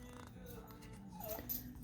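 Faint, brief high whining from a dog seeking attention, thin whimpers drifting over a quiet indoor background.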